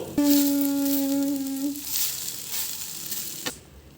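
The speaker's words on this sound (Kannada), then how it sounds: "ಇಲ್ಲಿ ಬೆಂಡೆಕಾಯಿನ ಫ್ರೈ ಮಾಡ್ಕೊತಾ ಇದ್ದೀವಿ" Okra sizzles as it fries in a pan, a steady crackling hiss close by with a sustained tonal whine over the first two seconds and a sharp clink near the end.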